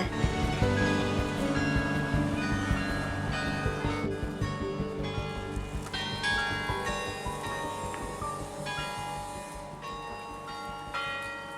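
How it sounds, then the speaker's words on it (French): A carillon of bells rings out from a church tower, many overlapping chimes layered in a continuous ringing that fills the whole stretch, with no voices. "je me remets de mes émotions au son du carillon des dames"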